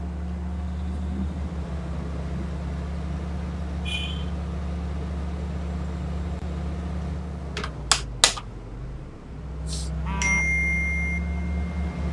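A few short bright electronic phone notification chimes ring out over a steady engine drone inside a moving VW Transporter T1 in City Car Driving, followed by a brief rising tone burst.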